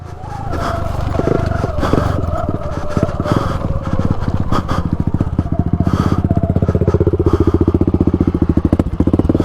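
An electric dirt bike rides along Michigan woodland trails, its motor whirring with rapid rhythmic pulsing and rattling that rises and falls, close and loud throughout.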